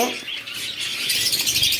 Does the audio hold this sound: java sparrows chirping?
yes